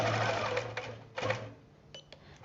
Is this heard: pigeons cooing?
no